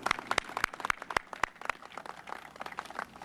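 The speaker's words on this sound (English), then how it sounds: "can we give our state's attorney another round of applause?" Applause for the state's attorney at a grant-funding event, a small audience clapping in distinct, sharp claps that start fairly spaced and thicken into a steady patter, moderately close with no talk.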